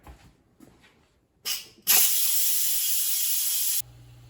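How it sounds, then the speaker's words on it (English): Steam purging hard from an Instant Pot pressure cooker during quick release while cooking homemade chili with home-canned beef: a few brief hisses, then a loud, steady, continuous jet of steam lasting about two seconds before it cuts off abruptly. "And now we're just gonna purge the steam out."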